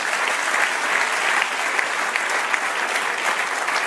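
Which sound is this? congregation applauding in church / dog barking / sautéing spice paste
congregation applauding in church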